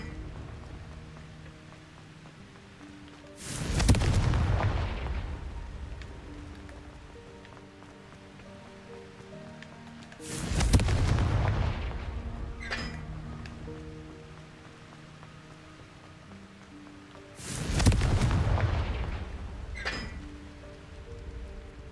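Three Confringo blasting-curse explosions go off in Hogwarts Legacy, evenly spaced about seven seconds apart. Each is a sudden loud burst that trails off in a long rumbling decay.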